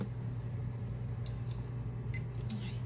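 A lab timer gives several short, high, faint electronic beeps in irregular bursts over a quiet background hum in a clinical pathology setting.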